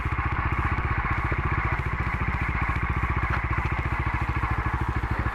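Bajaj Dominar 250 BS6 motorcycle engine running steadily while riding, a close, even single-cylinder thump with a fast regular pulse and mechanical clatter, no voices.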